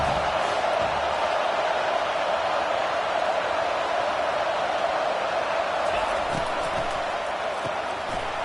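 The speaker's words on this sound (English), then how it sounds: "how nice is it to have the home crowd going absolutely bananas?" A home crowd at a football game roars continuously, a dense, loud wash of cheering that holds steady throughout, with a commentator talking over it.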